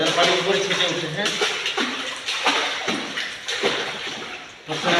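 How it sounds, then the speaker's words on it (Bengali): A child learning to swim kicks their legs and splashes water in rhythmic bursts, with repeated slaps and sloshes close by, while an adult talks over the water throughout. "জোরে জোরে বাড়ি দিতে হবে, যেন পানি উপরে ছিটে উঠে"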